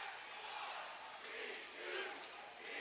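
Hockey arena crowd jeering the opposing goalie after an early Lizard Kings goal, a continuous wash of jeers and shouting that stays steady and far off, fairly faint, with no voice in front of it.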